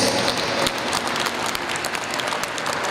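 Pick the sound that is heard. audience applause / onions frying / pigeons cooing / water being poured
audience applause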